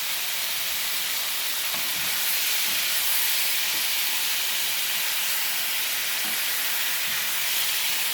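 Beef and liver sizzling in a pan with olive oil, a steady bright hiss and crackle running continuously and fairly loud, with no talk over it.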